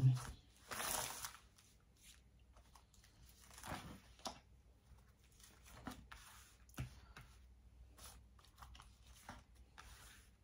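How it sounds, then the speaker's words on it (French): Oracle cards shuffled and drawn during a love-themed reading, with soft riffling bursts, crisp card snaps and light handling scattered through the quiet, faint and close. "je prends 6 cartes."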